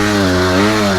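A motocross bike's engine held high in the revs on a sand track, a loud, close, steady buzzing drone with strong harmonics, heard alone for about a second.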